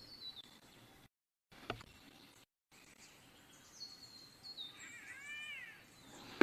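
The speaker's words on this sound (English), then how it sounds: "There's just a weird bird in there." A bird in Lower Bucca State Forest gives a few faint, distant chirping calls with short rising and falling notes over quiet outdoor background, with brief gaps of silence.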